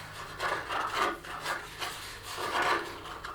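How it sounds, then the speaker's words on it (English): Cardboard rubbed against a contact microphone gives a close, scratchy scraping in several uneven strokes, rising and falling with no voices. "when I touch cardboard, you will hear the sound"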